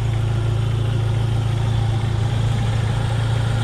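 A Jeep Wrangler engine idles with its newly installed air-conditioning compressor running, a steady loud low hum and drone that holds constant from start to finish.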